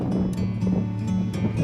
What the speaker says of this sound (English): The wind up here, the wind up here is going pretty good.